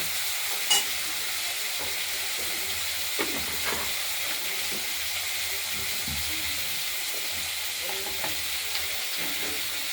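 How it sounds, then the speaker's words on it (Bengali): Potatoes and vegetable stems fry in a pan for fish curry, a steady close sizzle and hiss running throughout with occasional soft stirring clicks and scrapes, no voices. "তারপরে আলুটা আর ডাঁটাগুলোকে একটু ভেজে ভেজে নেব।"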